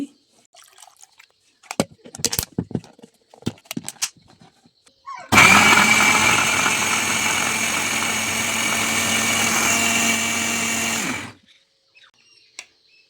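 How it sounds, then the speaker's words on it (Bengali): A kitchen blender grinds a potato and sago mixture with a little water added, a loud steady whirring motor running for about six seconds before stopping. Softer handling noises come before and after it. "এই তো আমার ব্লেন্ডার করা হয়ে গেছে"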